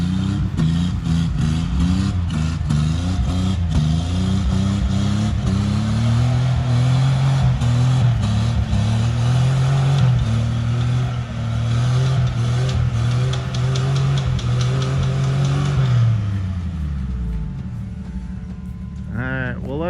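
Off-road vehicle engines rev hard while climbing sand, a loud close engine note rising and falling in pitch through repeated throttle surges, then winding down near the end, with people talking over it.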